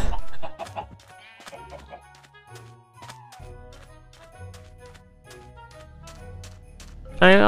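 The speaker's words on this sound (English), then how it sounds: "And we have a ongoing chicken farm here." Chickens cluck repeatedly on a chicken farm in Minecraft, the video game, with short, bright fowl calls repeating over a busy background of game noise and music, and a loud burst near the end.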